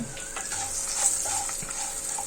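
Cashews, chana dal and urad dal frying in a pan for mint rice, a steady close hiss of sizzling oil with light stirring scrapes throughout.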